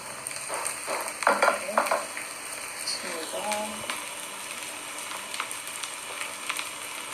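Freshwater shrimp and herb fritters fry over high heat in a Lao-style kitchen, giving a steady close sizzle and crackle with brief stirring and utensil clatter near the start.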